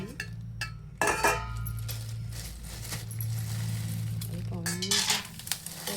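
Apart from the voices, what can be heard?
peanuts added to hot oil in a pan for tempering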